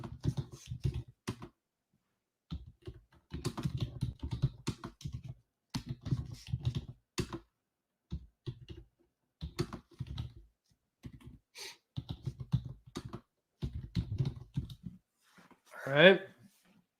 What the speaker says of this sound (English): I'm just typing while we're waiting. I'm typing everything I'm doing.